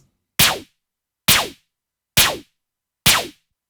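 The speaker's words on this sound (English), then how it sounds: "when I add those two snares together, it sounds like this." Four identical snare hits layering two white-noise synth snares, a bright, noisy electro snap, evenly spaced about a second apart, each short with a quick decay, loud and alone.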